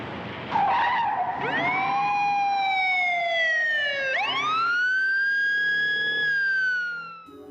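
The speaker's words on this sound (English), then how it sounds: "a police car with the world's most annoying siren" A loud police car siren from a 1973 movie car chase blares in two long, sweeping wails. The second wail starts with a sharp jump and then slowly falls away, with faint car and tyre noise beneath.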